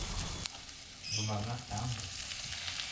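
Green beans stir-frying in a hot pan give a steady close sizzle and crackle, with a short stretch of voice partway through.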